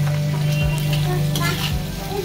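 Pasta stirred with sauce in a hot pan sizzles loudly and steadily up close, with scraping stirs over a constant low hum.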